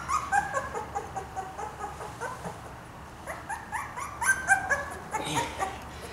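Small male puppy from a litter whimpering and yipping close by, a run of short, high, thin cries repeating unevenly through the stretch, with a louder cluster near the end.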